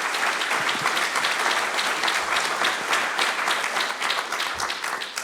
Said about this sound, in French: je voudrais vraiment qu'on vous applaudisse ce soir